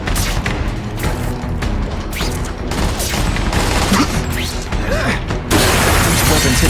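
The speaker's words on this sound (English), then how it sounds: "And boom goes the dynamite." Loud, dense bursts of explosions and crashing debris from The Amazing Spider-Man 2 video game, rolling continuously with sharp cracks layered over a heavy rumble.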